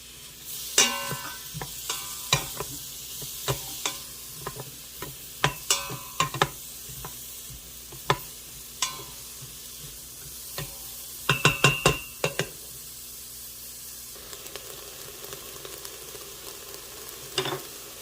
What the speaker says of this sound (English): I'll go ahead and add my chopped onions and saute that for a minute